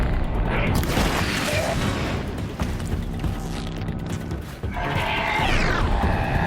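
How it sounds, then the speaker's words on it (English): Heavy rumbling and crashing noises roll through a dense, loud mix, with sweeping metallic whooshes from distant explosions in Horizon Zero Dawn at an Eclipse camp. "we can hear a lot of explosions in the distance there"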